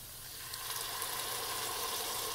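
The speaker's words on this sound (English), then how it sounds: "And you want that sizzling." A soft, steady hiss of tomato passata sizzling in hot oil, close by and even, with no voices over it.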